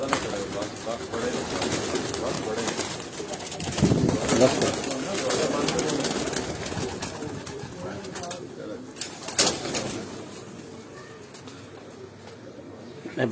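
Breeder pigeons coo in a steady murmuring chorus close by, with people talking over and around them throughout.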